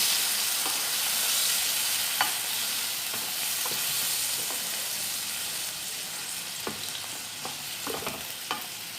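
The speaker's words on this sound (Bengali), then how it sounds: "এবার আমি ভালো করে নেড়ে নিচ্ছি" Honey garlic prawns fry in a pan with a constant loud sizzle while a utensil stirs them, adding scattered soft scrapes and taps throughout.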